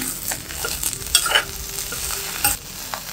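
Vegetables frying in a pan give off a steady sizzle, broken by bursts of stirring and scraping at irregular intervals, close and fairly loud with no talking.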